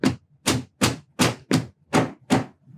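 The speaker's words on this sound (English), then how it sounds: "Hammering, drilling, screwing, all of that loud stuff." Hammer blows ring out close and loud, seven sharp evenly spaced strikes with brief silences between, no voices.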